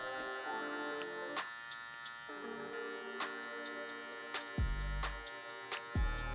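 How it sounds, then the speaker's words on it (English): Electric hair clipper buzzing steadily while blending a mid fade in a barbershop, a constant close hum with faint shifts in pitch as the blade moves through the hair. "you tend to kind of angle the clipper inward so that you get in there in a more detailed fashion to better help you blend out these guidelines"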